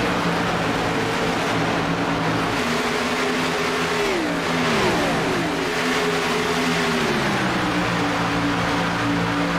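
Race car engines on a track during an Apex Racing Cup Series round at Charlotte: several engines drone and rise in pitch together, overlapping as cars accelerate past in a loud, continuous roar.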